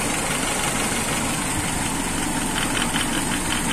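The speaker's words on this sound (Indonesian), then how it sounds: "biar semua tahu suara mesinnya gimana. Ini kondisi mesinnya ya" Car engine idling roughly with a suspected dead spark plug, a steady close mechanical drone with an uneven, shaky beat throughout, no voices.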